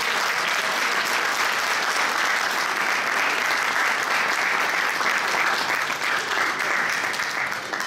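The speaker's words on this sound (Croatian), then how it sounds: "još jedan aplauz za Lena" Audience applause for an athlete at a Mladenovac sports awards ceremony, steady dense clapping from a large crowd lasting throughout without a break.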